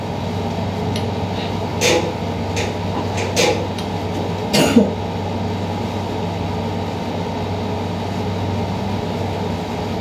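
A few short coughs break through a steady low background hum, spaced irregularly with a louder one near the end.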